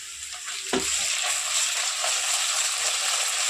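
Curry leaves and ginger paste frying in a pan, a loud, dense, steady sizzle with a brief clatter near the start and no talking.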